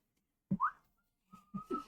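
A short, casual whistled phrase from a player at a tabletop role-play session, starting with a couple of quick rising notes, a pause, then a longer wavering tone and a few more notes, fairly close and alone.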